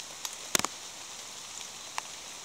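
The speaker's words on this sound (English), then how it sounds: "when's this rain gonna stop?" Rain falls outdoors as a soft, steady patter, broken by a few sharp isolated taps and clicks near the start and again later.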